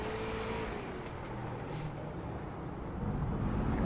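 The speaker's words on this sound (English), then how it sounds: "You can hear the tires working really hard trying to keep the traction underneath of him." Race car tires strain for grip on track in a racing video game, a steady loud roar of engine and tire noise with no talk over it.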